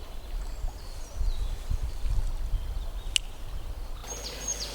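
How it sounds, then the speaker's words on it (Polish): A river flows through a Polish forest, giving a steady, soft broadband rush of water that stays fairly quiet and even throughout, with a faint high chirp near the end. "Oto jesteśmy nad rzeką, a właściwie na jej środku"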